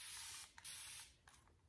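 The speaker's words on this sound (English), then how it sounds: "that was like one spray" A continuous mist spray bottle sprays water onto hair, one sustained close hissing burst of about a second with a brief dip, followed by a couple of faint short clicks.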